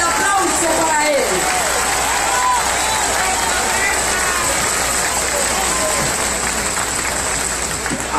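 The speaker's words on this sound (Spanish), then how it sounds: "Fuerte el aplauso para él." Large outdoor crowd applauding at a presidential campaign rally for Andrés Manuel López Obrador in Guaymas, Sonora, a dense steady roar of clapping and cheering that holds for the full stretch.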